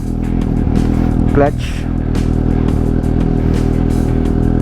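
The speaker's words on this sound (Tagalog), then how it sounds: "once na naka-start na yung engine natin or yung makina" A big bike motorcycle engine idles steadily at close range, with a continuous low rumble and a brief clunk partway through, while someone talks over it throughout.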